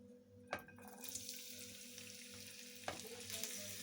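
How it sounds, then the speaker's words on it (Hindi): Vegetables fry in hot oil for a vegetable omelette, a loud, continuous sizzle with two sharp stirring scrapes, close and without talk. "इनको हम थोड़ा सा फ्राई करेंगे इसके साथ, ऑयल के साथ।"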